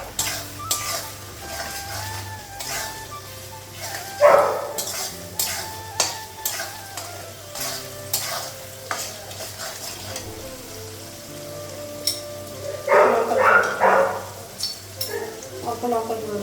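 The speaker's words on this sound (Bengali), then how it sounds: "মশলাটা একটু ভেজে নেবো" Spice paste for a mutton curry fries in a pan, with a steady sizzle and repeated spoon scrapes and clatter against the metal, while background sounds and bits of voice drift in at times.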